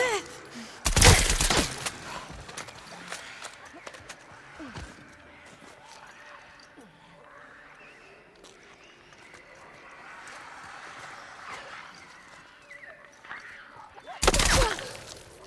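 Two loud bursts of semi-automatic gunfire ring out in The Last of Us Part II, one near the start and one at the end, with quieter game ambience and footsteps in between.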